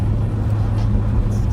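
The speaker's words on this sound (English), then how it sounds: "Holy smokes, there's a lot of traffic." Heavy road traffic streams past a moving sheriff's patrol car eastbound on 7th Street during construction season, a steady close engine and tire rumble with no break across the moment.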